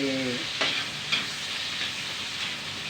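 Pork fries in a pan, making a steady, close sizzle with a few soft clinks of stirring and a brief voice-like tone at the start.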